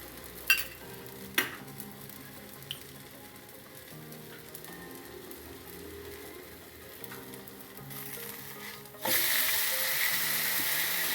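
Jowar dosa frying in oil on a hot pan gives a steady close sizzle with a few sharp clicks of a utensil early on, and the hiss jumps louder and brighter near the end as more oil hits the pan.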